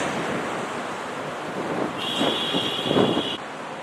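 Strong wind gusting outdoors on a Nagoya street, a broad steady roar of buffeting microphone noise that swells slightly, loud and close, with a brief high tone in the middle and no talk.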